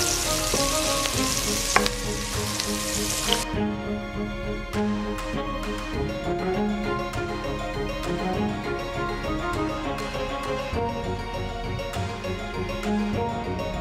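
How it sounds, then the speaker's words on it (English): Meat browning in two pots for a Naruto-inspired curry, a dense continuous sizzle with scattered pops and stirring clinks, close and loud throughout. "here we have 2 pots of meat browning"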